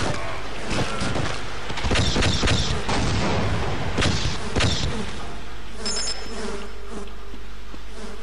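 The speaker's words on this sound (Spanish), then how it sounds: "No, ha sonado como si fuera una ametralladora" Half-Life machine gun fire rattles in a rapid, dense stream of loud close shots for several seconds, then fades into a lingering buzzing hum and low rumble.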